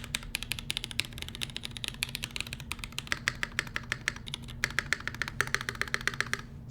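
Fast typing on a firm-feeling mechanical keyboard from a Square X prototype build, a steady, close stream of crisp clicky keystrokes with a few heavier taps near the end.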